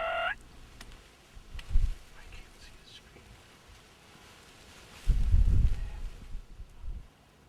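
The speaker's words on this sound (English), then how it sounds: "these 2 gobblers showed up" A wild turkey gobbler lets out a short, warbling gobble at the start, a little distant, followed by quiet outdoor ambience, low thumps and soft murmured voices.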